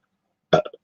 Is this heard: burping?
yes